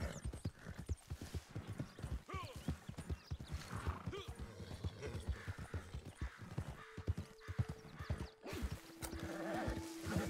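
Horse hooves clip-clop at a steady galloping rhythm while riding in the open-world game Red Dead Redemption 2 Online, with a brief whinny and faint sustained tones in the background; no one speaks.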